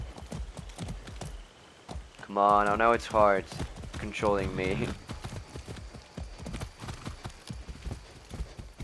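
Horse hooves galloping in the Far Cry 6 video game, a rapid clip-clop rhythm running throughout, with someone talking over it in the middle.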